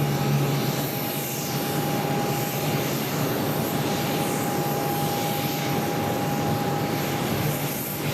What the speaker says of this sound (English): We got a Spirit A320 now rolling down at 22 right.